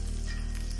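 Onions sizzle steadily in hot oil together with curry leaves, fenugreek seeds and dried red chillies, cooked for a bitter gourd theeyal. The frying is close and continuous, with no voices.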